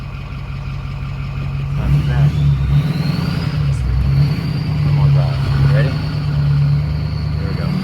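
A Ford PowerStroke diesel truck with a fuel delivery issue and harsh transmission tuning accelerates and shifts gears, its steady low engine drone rising and dipping under ongoing talk.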